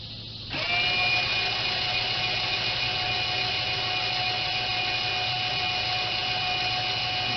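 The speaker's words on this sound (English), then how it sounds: "I'm just gonna run the motor" An aircraft landing gear retraction motor starts up and runs steadily with a constant mechanical whine and hum, close and loud, continuing without a break after the start.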